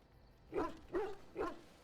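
A dog in the Dragon Age: Origins video game barks three times in a steady rhythm, each bark short and moderately loud against a quiet game background.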